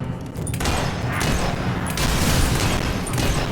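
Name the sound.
gunshots in the video game Fable 3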